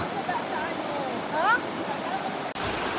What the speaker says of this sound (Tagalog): Nakakatuwang pakinggan yung agasas ng tubig